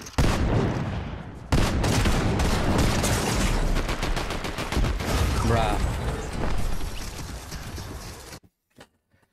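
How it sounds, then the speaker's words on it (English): Gunfire rattles through a Fortnite match in rapid, dense bursts that stay loud for most of the stretch before cutting off abruptly into near silence, with a few faint ticks at the end. "I'm seeing gunshots from about 3 miles away"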